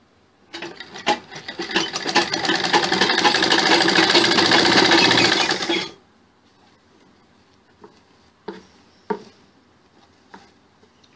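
A sewing machine stitching a sherwani suit runs in one loud, steady burst for about five seconds, then stops, followed by a few quiet handling clicks of fabric and machine.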